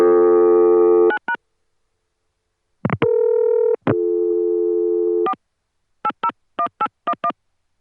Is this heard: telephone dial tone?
yes